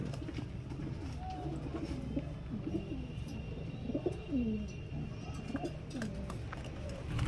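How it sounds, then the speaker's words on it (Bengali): Teddy pigeons coo in soft, repeated throaty calls close by, over a steady low background hum. "এগুলো কিন্তু ট্যাডি পায়রার বাচ্চা"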